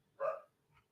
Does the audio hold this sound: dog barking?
yes